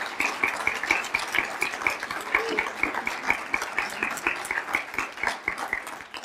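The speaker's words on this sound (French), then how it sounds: "j'aimerais ça qu'on lui donne une belle main d'applaudissements" An audience at a writing-contest launch gives sustained, dense applause, many hands clapping steadily and fairly close throughout.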